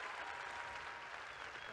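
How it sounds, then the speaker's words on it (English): A prayer meeting crowd claps for its leaders in a brief, even round of applause that sounds faint and somewhat distant. "I want you to give them a big clap"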